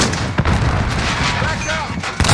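Black Ops Cold War multiplayer firefight at a hardpoint, with a grenade blast and rapid gunfire filling the scene, loud and dense with sharp overlapping reports and a booming hit near the start.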